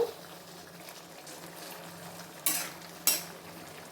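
A pot of cauliflower curry bubbles softly with a low, continuous simmer, and two sharp scraping bursts of stirring break through near the end; no one speaks.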